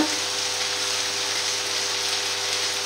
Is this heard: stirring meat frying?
yes